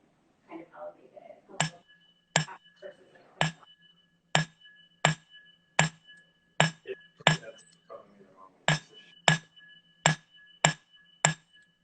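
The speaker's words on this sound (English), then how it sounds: "Hank, is giving us a demonstration in hammering one of their designs" A metal jewelry design is hammered on an anvil in a jewelry studio, with about a dozen sharp, ringing metallic strikes in a steady rhythm. Quiet talk sits between the early blows.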